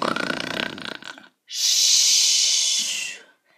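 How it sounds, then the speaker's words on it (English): A cartoon dragon princess snores loudly in a castle: one long, harsh rasping hiss of a snore that follows a rougher rumbling inhale, with a brief pause between, and no other sounds. "The sleeping dragon princess began to snore."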